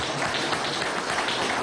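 Applause for a children's and youth movement at an outdoor public event, a dense, steady crowd clapping that carries evenly through the moment without any talk.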